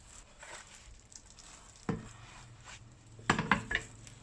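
Cut chicken pieces dropped into a pot for chicken soup, a dull thud followed by a cluster of sharp clinks and knocks against the pot, close and fairly loud, no talking.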